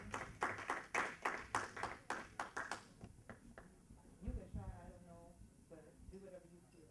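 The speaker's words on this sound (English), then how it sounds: "please give a nice round of applause to True right here" A small audience at a soul music summit claps for a spoken-word performer, a few seconds of distinct, rhythmic claps that thin out as a voice begins talking.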